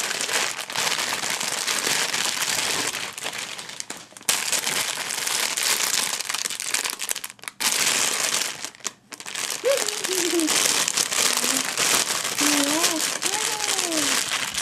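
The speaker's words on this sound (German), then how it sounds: "Das ist aber viel Papier." Wrapping paper crinkles and rustles loudly and almost continuously as a gift is unwrapped, with short pauses; a voice and an adult's talk sound over the crackling.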